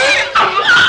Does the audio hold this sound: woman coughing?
no